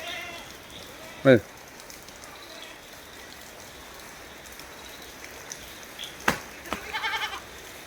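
Grazing goats, a mother with her kid and another female, give one short, clear bleat early on; the rest is quiet background with faint scattered rustles and small knocks.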